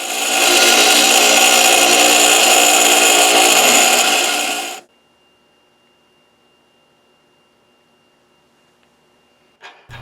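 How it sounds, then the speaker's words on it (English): A power grinder cuts away the swaged nylon-locking portion of steel lock nuts, a loud, continuous high-pitched grinding for nearly five seconds that stops abruptly, followed by near silence and a brief clunk. "I ground off the swaged part of some lock nuts to get rid of the nylon."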